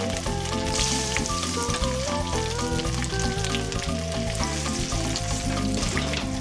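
Steady crackling sizzle of food frying in hot pork fat in Vietnam, close and continuous, with tuneful background music playing throughout.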